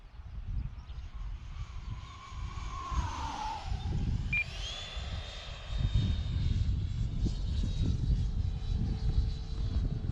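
A fixed-wing RC model airplane passes overhead at low throttle, its engine a steady buzzing drone that rises and shifts in pitch as it goes by, with a light outdoor background.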